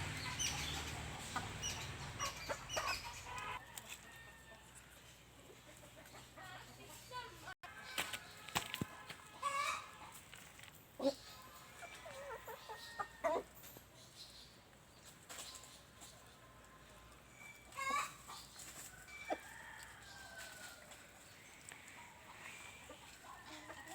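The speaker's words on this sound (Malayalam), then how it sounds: "ഇതാണ് ഞങ്ങളുടെ കയ്യിലുള്ള നാടൻ കോഴികൾ." Native country chickens kept in a home coop cluck sporadically, fairly faint and spread out, over a quiet outdoor background with occasional knocks and rustles.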